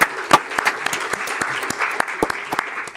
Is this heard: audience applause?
yes